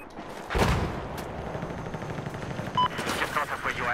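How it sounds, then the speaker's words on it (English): Machine gun fire in Battlefield 4 rattling in a Conquest match, a loud burst near the start followed by continuous gunfire and battle noise. A voice is heard partway through. "There appears to be a hostile machine gun."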